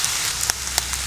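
Rain falls on a car and is heard from inside during an overnight stay in the vehicle, a steady close patter broken by a few sharper individual drop hits.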